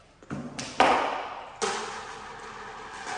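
Plastic containers of two-part epoxy grout being opened give a few close, sharp snaps and hollow thuds, each fading quickly in a quiet room.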